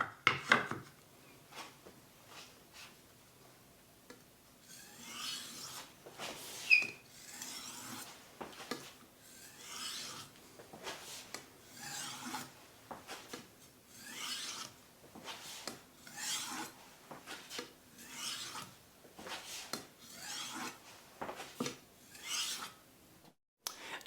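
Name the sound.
polishing a knife edge on a sharpening stone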